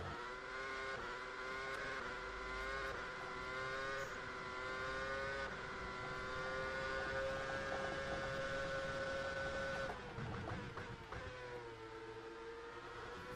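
Open-wheel F1 RFT 2013 mod car in rFactor 2, its engine screaming at high revs as a steady sustained whine, bouncing off the rev limiter with a brief stutter near the end, loud and close with no talking.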